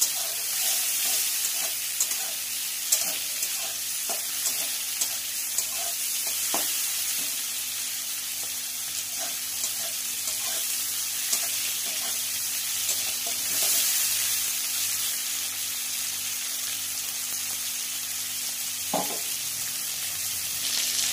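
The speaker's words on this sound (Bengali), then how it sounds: "আমি চিংড়ি মাছটা কিন্তু বেশি ভাজি না, কারণ শক্ত হয়ে যায়, সেই জন্য হালকা একটু ভেজে নেব।" Prawns fry lightly in oil in a pan, giving a steady close sizzle for the whole stretch, broken by occasional sharp pops and stirring clinks, with no talking.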